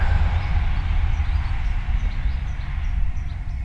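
A train rolls past a lakeside carp fishing lake at Wrinehill, a steady low rumble that fills the whole stretch, with faint bird chirps above it and no talk.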